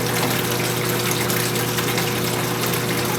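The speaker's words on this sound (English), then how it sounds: "we're basically just flushing all the old product out" A commercial frozen yogurt machine is flushed of leftover product during cleaning. The pumping and gushing liquid makes a loud, continuous churning hum with a steady motor tone underneath, with no talking.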